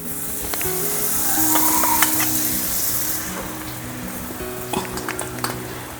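Food sizzles in butter or ghee on a hot pan, a steady close frying hiss with occasional clinks and scrapes of a utensil stirring and flipping.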